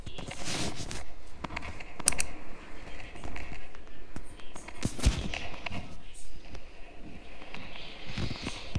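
A minigun fires in a zombie apocalypse video game, a dense stream of rapid gunfire bursts and sharp cracks crowding together for several seconds at moderate loudness, with faint talk mixed in.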